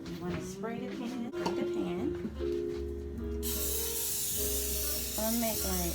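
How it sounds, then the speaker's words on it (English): Cooking spray hisses into a pan for a steady spray of a few seconds, following a stretch of background talk and clatter, with voices continuing under and after the hiss. "In the pan, you want to spray the pan."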